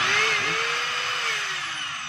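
A repaired DeWalt D25032 rotary hammer runs freely with a steady high whine, its motor pitch wavering slightly over two seconds, close and loud with no talking.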